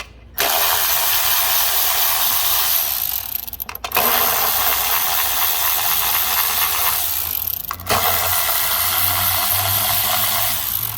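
Ratchet loosening the 8mm bolts holding down the ignition coils on a Ford Fusion EcoBoost engine during a spark plug replacement, heard as steady, close, continuous clicking broken by two brief pauses.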